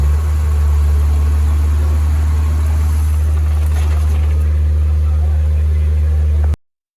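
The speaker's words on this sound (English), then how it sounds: "it's going to open our EGR valve up here all the way, and it's going to stall our engine out" A car engine with a forced-open EGR valve runs at a loud, steady low drone close to the microphone, then cuts off abruptly.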